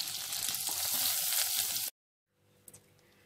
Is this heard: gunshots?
no